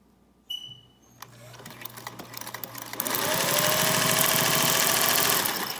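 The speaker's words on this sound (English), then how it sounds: "going to sew a 1/4 inch seam on either side of the mask to hold the tucks in place" A sewing machine stitches a quarter-inch seam through a surgical mask made from surgical tray wrap, starting with a few short bursts and then running in a loud, steady, rapid whir.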